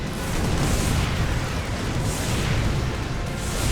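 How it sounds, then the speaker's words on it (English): A Spider Mine detonates in the Starbow strategy game, a broad, continuous roaring blast with sustained rumble that carries through the whole moment without a clear single pop. "the Spider-Mine's getting a pretty nice connect there"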